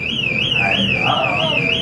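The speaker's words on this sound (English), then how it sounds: "The alarm's going off here." A store alarm sounds inside a retail shop, a loud, close electronic siren with a rapidly warbling, wavering pitch that repeats in an even cycle across the whole stretch.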